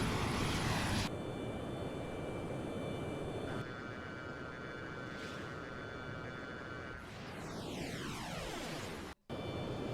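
Jet engine roar from an F-14 Tomcat and a MiG-28 (F-5) dogfighting in the IL-2 1946 flight game, a steady loud drone. A swooping pitch sweep passes near the end, followed by a brief dropout.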